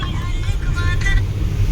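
Road traffic noise with a passing car, a short burst of close engine rumble and road hiss with faint voices in the background.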